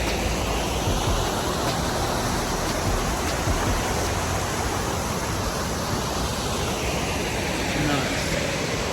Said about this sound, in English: Walking towards the waterfall.